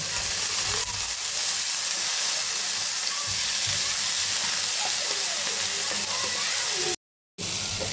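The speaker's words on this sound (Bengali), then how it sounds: "সবজিগুলো ভালো করে ভেজে নেব।" Vegetables frying in a wok with garlic, ginger and pepper, giving a loud continuous sizzle and hiss that runs steadily, then breaks off in a brief silence near the end.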